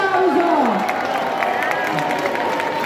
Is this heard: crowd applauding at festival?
yes